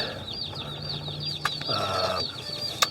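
Young Cornish Cross Rock broiler chicks raised on pasture chirp and cluck continuously in a close, busy chorus, with a brief flutter of wings and a couple of sharper peeps standing out.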